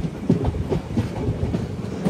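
A train pulled by a WAP-7 locomotive rumbles steadily along a single-track line near Guntur, its wheels clacking in a dense, continuous rhythm heard from on board.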